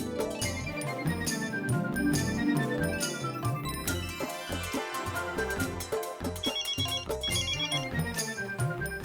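A telephone ringtone plays as a bright, looping electronic melody with chiming tones, loud and steady throughout, placed as an early-morning call in an Indian TV sitcom.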